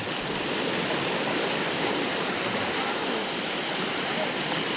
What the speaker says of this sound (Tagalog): Sa malaking talon.